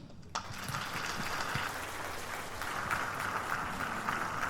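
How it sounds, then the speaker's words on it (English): A crowd at a state dinner in Togo breaks into sustained applause, dense and steady clapping from many hands that continues without pause. "On peut applaudir encore plus fort"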